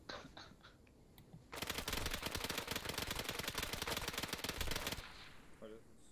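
A long burst of rapid automatic gunfire, about fifty rounds, from a night-ops training session in a game. It starts abruptly, rattles loud and continuous for several seconds, then cuts off, with quieter sounds on either side.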